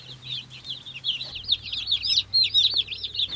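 A group of meat chicks in an outdoor brooder peep in rapid, high, continuous chirps close by, steady and fairly loud over a low background hum.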